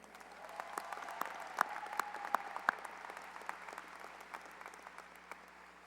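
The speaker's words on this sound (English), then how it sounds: "give another round of applause to Ms. Carrie Pruce and the award-winning Utica Band" A high school graduation crowd applauds the school band and its director, scattered claps building into a moderate round with a few sharp, close handclaps and whistle-like tones over a low hum.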